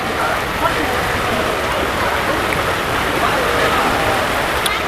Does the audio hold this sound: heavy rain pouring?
yes